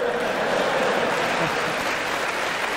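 Thunderous applause fills the US Congress chamber during a joint address, a broad, continuous roar of many hands clapping at full strength with no pause for its entire length.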